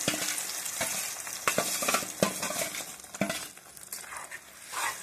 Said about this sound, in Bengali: এটাকে আমি লো মিডিয়ামে আস্তে আস্তে কষিয়ে নেব যতক্ষণ না এর মধ্যে থেকে তেল ছাড়ছে।